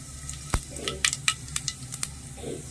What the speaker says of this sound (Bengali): তো এখানে তেলটা ভালো করে গরম হয়ে গেছে ফোড়নে দিয়ে দিচ্ছি তেজপাতা একটু গোটা জিরে